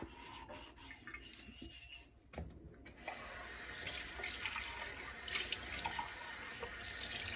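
Tap water running while hands wash and rub with homemade Marseille soap, starting with soft rubbing and a short lull before the faucet gushes steadily and close.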